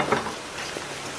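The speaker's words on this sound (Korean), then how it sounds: "이제 야채가 지글지글 거리니까 버터는 반만 넣을게요" Sliced mushrooms and vegetables sizzle steadily in a hot pan with butter for a mushroom cream soup, a close, even frying crackle with faint stirring, no talking.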